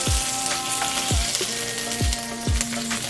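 Bok choy and other vegetables fry in a hot pan with a loud, continuous sizzle, broken by several sharp clanks of a utensil stirring against the metal.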